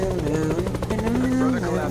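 A helicopter in a multiplayer video game's blackout mode gives a steady rotor drone with a shifting engine whine, heard close and under a player's continuous talk.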